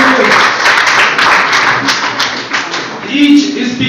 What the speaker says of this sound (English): Give a round of applause for Royal Furious.